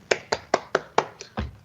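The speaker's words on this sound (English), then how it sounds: "there we go, the virtual applause" Short burst of virtual applause during an online school board meeting: about six sharp, evenly spaced claps, close and clear, the last one softer and trailing off, with no talk over them.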